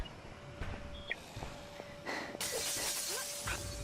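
Glass shatters in the Dead Island zombie game, with a burst of breaking and scattered tinkling shards over a few seconds, fairly close, amid game ambience and no talk.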